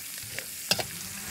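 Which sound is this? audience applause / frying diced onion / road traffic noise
frying diced onion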